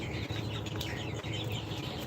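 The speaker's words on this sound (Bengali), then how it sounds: "দেখতে পাচ্ছেন একদম রেডি মুরগি" Hens clucking and calling nearby at a chicken farm with 47-day-old laying hens, a steady mix of overlapping clucks and chirps over a low hum, no voice.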